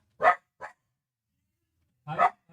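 A pet dog indoors gives two sharp barks, a pause of over a second, then another bark, all near and loud against a quiet room.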